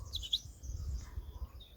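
A goldfinch perched outdoors in the countryside near Sefrou, Morocco, gives a few faint high chirps early on over a low rumbling background.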